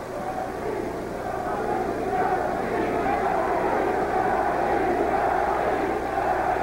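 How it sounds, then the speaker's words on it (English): A boxing arena crowd chanting the fighters' names at Earnie Shavers versus Bernardo Mercado, a steady massed roar of voices filling the hall continuously with no break. "The crowd chanting, Bernie, Bernie, and Earnie, Earnie, which is the overriding chant"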